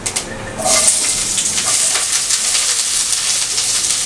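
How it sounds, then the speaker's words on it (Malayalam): Chopped ginger, garlic and onion hit hot oil with cumin seeds in an iron pan, breaking into a loud, steady, close sizzle that holds without pause. "ജീരകം ഒന്ന് പൊട്ടി കഴിയുമ്പോൾ അതിലേക്ക് നമ്മൾ അരിഞ്ഞു വെച്ചിരിക്കുന്ന ഇഞ്ചിയും വെളുത്തുള്ളിയും സവോളയും ആഡ് ചെയ്യാം"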